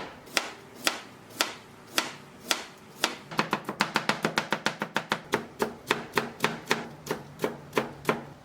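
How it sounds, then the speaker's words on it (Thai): A knife chops a peeled cucumber on a board while making Korean kong-guksu cold soybean noodle soup: a few spaced, crisp strikes, then a fast, steady run of close, sharp chops. "ผมจะหั่นแตงกวาครับ"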